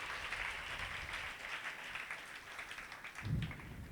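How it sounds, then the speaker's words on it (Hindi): A church congregation claps together during a Saturday worship service, a faint, steady patter of many hands heard at a distance. "ताली बजा के प्रभु को महिमा दे।"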